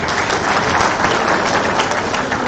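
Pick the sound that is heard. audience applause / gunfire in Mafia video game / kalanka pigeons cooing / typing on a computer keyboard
audience applause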